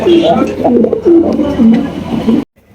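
Fancy pigeons, including a red pair, coo repeatedly in low, throaty phrases, several birds overlapping close by at a pigeon farm, with a muffled voice faintly underneath before it cuts off.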